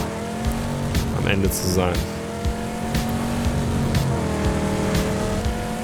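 A car drives in PUBG, its engine droning steadily with tonal revving and brief tire squeals, while someone talks over it in German.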